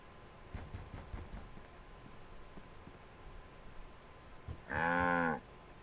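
A cow moos once, loud and close, for about a second in the Sam & Max video game, after a few soft knocks and rustles against a quiet background.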